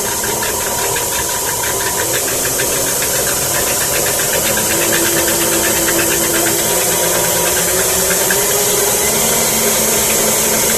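An electric stand mixer creams cherry cookie dough with a loud, constant whir and rattle, droning without pause from start to finish and no voice over it.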